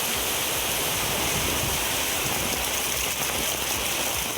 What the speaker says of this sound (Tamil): தஞ்சாவூர் மாவட்டத்தின் பல்வேறு பகுதிகளிலும் பலத்த மழை பெய்ததால் குளிர்ச்சியான சூழல் நிலவியது.